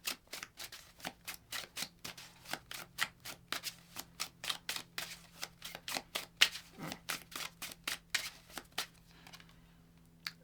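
Tarot cards are shuffled close up, producing quiet, rapid flicking bursts in a steady repeating rhythm.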